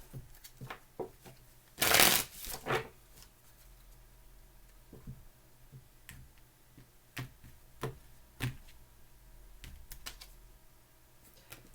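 Tarot cards are shuffled close by in one loud riffling burst, then come soft scattered taps and flicks of cards being handled on a table, with no voices.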